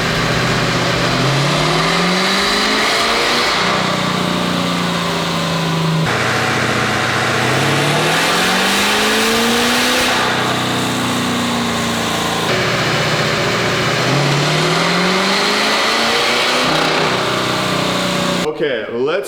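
Diesel truck engine with a DPF delete, pulling hard on a dynamometer in repeated rising revs that climb steadily, drop off and climb again, loud and continuous, with voices talking underneath.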